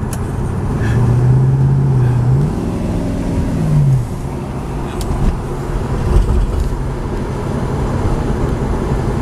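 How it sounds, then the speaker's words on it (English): A 1972 Chevelle SS with a big-block engine runs on a test drive, its steady loud rumble carrying a rising, gear-like whine early on, then settling into a continuous cruising drone with no talking. "Oh, it's a nice running car."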